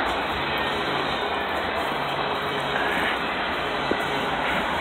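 Train rolling past close by outside in cold weather, a continuous loud rumble and rushing roar that holds steady throughout with no voices over it.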